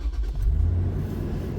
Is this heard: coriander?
no